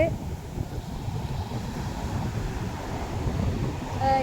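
Sea waves wash up on the shore close by, a steady low roar of surf mixed with wind buffeting the microphone, swelling slightly toward the end.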